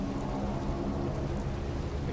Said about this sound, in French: C'est la pluie, je vous l'avais dit